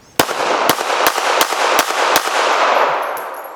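Six sharp shots from a small pocket pistol loaded with Critical Defense ammunition ring out at an uneven pace over about two seconds, loud and close, with reverberating tails and no talking.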